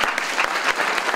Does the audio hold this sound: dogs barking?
no